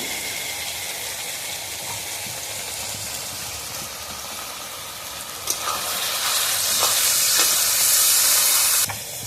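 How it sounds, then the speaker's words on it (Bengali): Ginger, garlic and onion sautéing in a pan for a duck meat curry: a steady broad sizzle and hiss that swells louder and brighter toward the end, with occasional stirring scrapes, no voices. "আদা রসুন পেঁয়াজ ভালোভাবে কষিয়ে নিয়েছি।"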